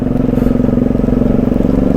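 Carbureted Honda Magna 250 V-twin motorcycle idling steadily up close, its engine and exhaust giving a loud, even, pulsing throb with no speech over it.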